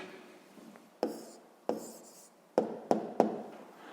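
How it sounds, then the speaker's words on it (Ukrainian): Pen or pencil writing an answer to a sixth-grade maths problem on paper, a soft continuous scratching broken by several sharp taps as strokes begin, close and quiet with no talk. "записуємо відповідь"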